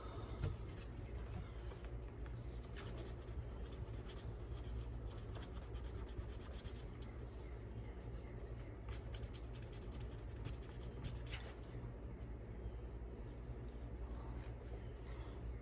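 A pocketknife blade from a Wards USA three-blade stockman is hand sanded with 1500 grit sandpaper, quiet repeated rubbing strokes in a steady back-and-forth rhythm, close but faint over a low background hum.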